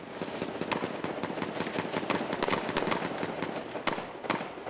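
Rapid bursts of gunfire crackle in irregular volleys during an armed clash between police and attackers at a building entrance, sharp and dense, some shots louder and closer than others.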